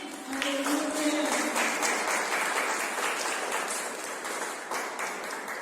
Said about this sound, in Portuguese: você pode aplaudir ao Senhor, celebrando ao nosso Deus